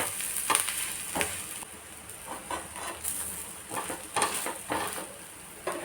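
Egg dosa with coconut frying on a pan after being flipped, a close crackling sizzle with repeated bursts of spattering and a few utensil scrapes, with no talking.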